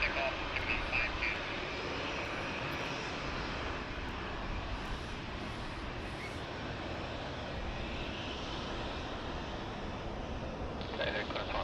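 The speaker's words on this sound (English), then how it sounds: "Runway 16 right, clear for takeoff, 7052." A Japan Airlines jet taking off from Sydney Airport rumbles in a steady, distant engine roar, with radio chatter heard faintly in the background.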